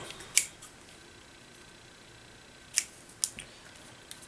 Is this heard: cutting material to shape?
yes